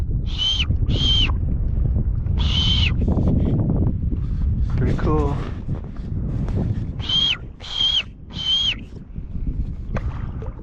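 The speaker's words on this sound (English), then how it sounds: "Pretty cool birds." Birds of prey hunt over water in Baja Mexico, giving repeated high, clear whistled calls in short bursts, with wind rushing across the microphone. A person speaks briefly between the calls.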